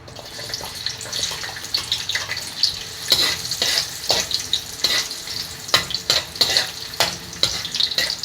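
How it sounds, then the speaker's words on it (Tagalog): Chopped onions sautéing in a pan for Bicol kandingga (bopis): a steady close sizzle broken by repeated sharp scrapes and knocks as the onions are stirred. "umpisahan na nating mag-gisa. Unahin natin ang sibuyas."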